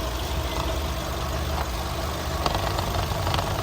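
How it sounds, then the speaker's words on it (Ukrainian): A 2008 Skoda Octavia with a 1.6 MPI petrol engine and automatic gearbox idles close by, giving a steady, even running drone with a faint rhythmic tick and no pauses. "Так працює двигун."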